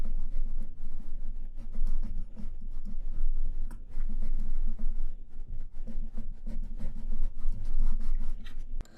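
A pencil draws lines on paper with continuous scratchy strokes in a steady rhythm of short scribbling bursts, close up and fairly loud, with no talking.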